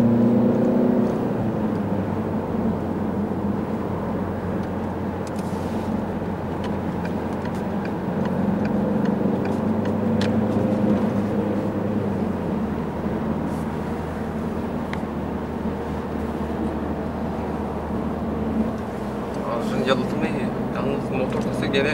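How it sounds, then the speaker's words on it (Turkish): Peugeot 508 with the 1.6 eHDi diesel engine running, a steady low hum with a slight rise in revs, heard from inside the car beneath continuous talking. "motor sesi gene kulağa geliyor."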